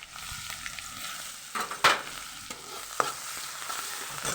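Crushed garlic, green chillies and coriander roasting with curry leaves in a pan for Kathiawadi brinjal masala, a steady soft sizzle with a few sharp stirring scrapes, close and alone.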